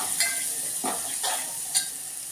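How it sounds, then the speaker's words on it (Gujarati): Asafoetida, crushed garlic and coriander sautéing in hot oil for a stuffed bitter gourd dish, a soft steady sizzle with a few brief stirring bursts. "તેલ થઈ જાય પછી થોડી એમાં હિંગ ઉમેરીશું અને લસણ અને ધાણા વાટેલા છે તો નાખીશું।"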